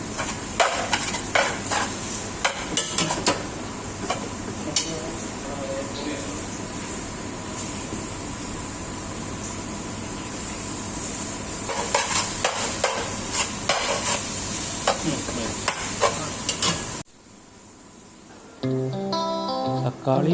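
Chopped tomatoes sautéing in masala for mutton biryani, a steady loud sizzle with stirring and utensil scraping against the pan throughout, then it cuts out and a brief quieter stretch follows.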